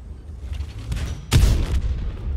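A tank cannon fires in World of Tanks, the T-100 LT's shot landing as a single loud, broadband boom with a rumbling low tail, preceded by quieter engine and battle rumble.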